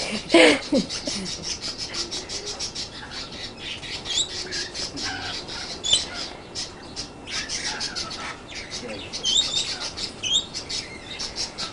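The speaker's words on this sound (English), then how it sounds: "You've got these birds up there at your place coming in, have you?" Scattered bird calls, chirps and squawks around a house, mostly faint and intermittent against a quiet background, with a brief voice now and then.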